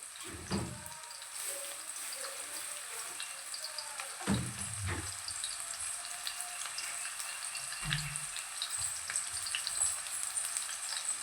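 Small shallots frying in a pan, a steady soft sizzle running throughout with a few louder stirring scrapes at intervals, close and without talk.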